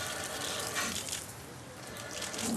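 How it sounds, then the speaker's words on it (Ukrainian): Water runs from an outdoor beach shower in a steady hissing spray, fairly close and continuous, with slight swells in intensity and no clear talk over it. "Тут таки мер перевіряє, як працює душ."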